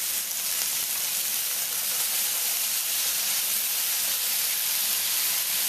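Hoisin and soy sauce hit a hot pan while cooking a spicy beef noodle stir-fry, giving a steady, loud, close sizzling hiss that holds evenly without a break.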